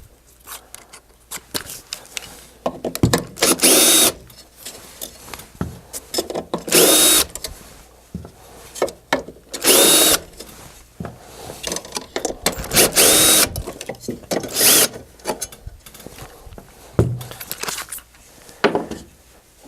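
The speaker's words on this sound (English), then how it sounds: "we're going to remove these 4 screws to loosen the blower from the bracket" Power driver with a T20 Torx bit backing four screws out of a blower bracket on a Phoenix DryMAX XL dehumidifier, in several loud whirring bursts of one to two seconds each, separated by quiet pauses and small clicks.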